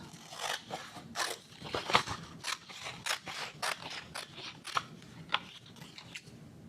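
Scissors snip through paper to cut out shark teeth for a paper craft, a quick series of close, crisp cuts in an uneven rhythm with no talking.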